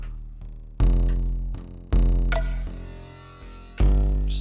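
An electronic snare built in the Serum synthesizer from a noisy attack, hitting in a slow regular pattern over a deep sustained bass in a produced music loop.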